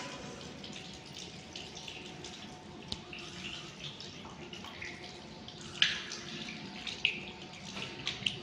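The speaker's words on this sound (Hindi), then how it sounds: "इसी तरह अब हम उल्टा पाँव धोएंगे," Tap water runs steadily while a foot is washed during wudu, a soft continuous flow with light splashes and a few small splashy clicks, close by.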